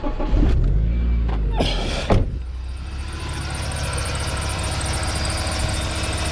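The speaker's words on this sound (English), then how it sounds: "there it is, doing a cranking test" A car engine cranks during a battery charger cranking test: a few uneven starter turns and knocks, then a steady low running hum continues close by with no talking.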